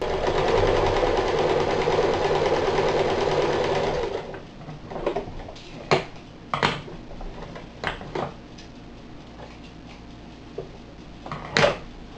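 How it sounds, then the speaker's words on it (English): A sewing machine runs steadily and loudly for about four seconds while stitching the cut edges of potato grow bag fabric, then several short bursts of stitching and clicks follow. "we've sewn the cut edges together"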